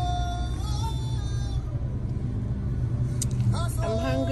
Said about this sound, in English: Traffic in town